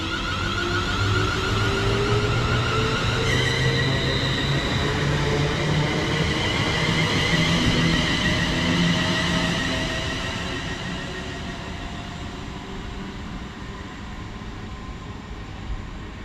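A Class 350 London Northwestern Railway electric multiple unit departs Birmingham International station, its traction motors whining upward in pitch over a loud, steady rumble of wheels that eases and fades after about ten seconds.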